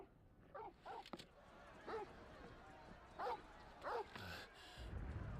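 A dog barks in Final Fantasy XVI with a handful of short yips and woofs spread across the moment, at moderate distance over a low game ambience, with a brief rumble near the end.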